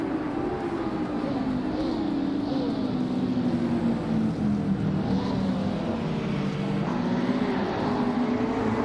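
Race cars, among them a 2019 McLaren 600 L2, roar steadily in a racing video game, a continuous droning engine note with shifting pitch that runs loud and unbroken throughout.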